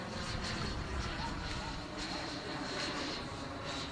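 An AeroFoam T-45 RC EDF jet cruises at half throttle with a steady, distant ducted-fan whoosh and hiss that stays constant throughout, set against open outdoor air.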